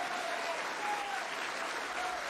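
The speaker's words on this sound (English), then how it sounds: "Let us bring him on with a round of applause." Steady crowd applause welcoming Minister Malcolm X onto the stage, a dense, even wash of clapping that holds at one level throughout with no voices over it.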